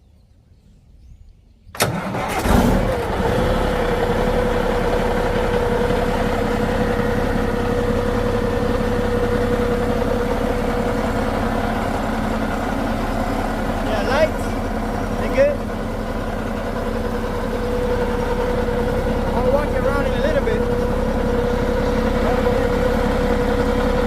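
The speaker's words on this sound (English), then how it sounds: "I'm gonna crank up the truck now and get ready for the trip." A cabover truck's engine cranks briefly and catches, then settles into a loud, steady diesel idle that rumbles on close by for about twenty seconds.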